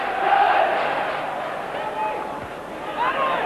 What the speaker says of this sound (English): Applause from the Kilmarnock fans for their team.